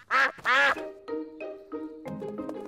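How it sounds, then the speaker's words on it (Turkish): Cartoon ducks quack on a boating lake in a children's animated show, two loud harmonic quacks up front followed by softer, steadier tonal calls and chatter-like sounds. "Ördekler göllerinde yüzüyorlar."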